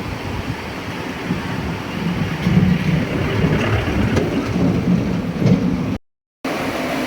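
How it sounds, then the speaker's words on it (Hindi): Fast-flowing river water rushes through the hills near Dehradun and Mussoorie, a loud, dense, continuous roar with no talk, cut off briefly near the end. "देखिए जी पानी का भाव कितना तेज है यहाँ पर, बहुत तेज पानी का भाव।"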